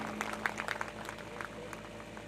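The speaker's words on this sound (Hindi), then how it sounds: "ताली बजाते बजाते थक गई क्या, पता ही नहीं कैसे बजाते हैं" A small audience at a religious discourse gathering at a cow shelter claps faintly and somewhat irregularly for a couple of seconds, the claps scattered and soft against a low background hum.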